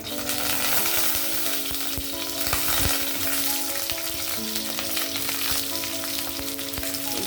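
Onions fry in very hot oil for a country chicken cashew curry, giving a loud, dense, continuous sizzle and crackle close up with scattered stirring clatter and no speech.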